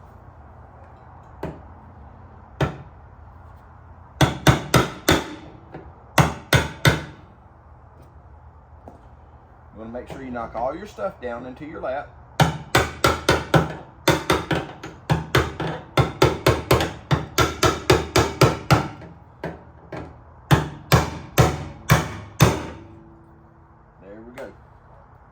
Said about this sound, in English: remember what I said about the biggest hammer you got to knock it in?